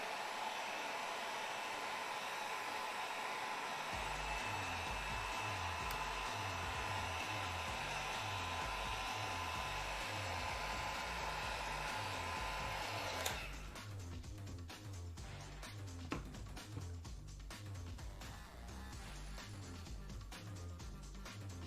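A heat gun blows steadily while heat-treating cosplay armor material for a Final Fantasy shield, a loud constant whooshing hum with a low rhythmic pulsing added after a few seconds, and the airflow tone shifts partway through.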